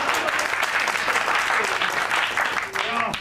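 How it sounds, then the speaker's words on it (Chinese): A gathering of people breaks into applause, dense and continuous clapping that stays loud and close from start to finish. "现在允许鼓掌。"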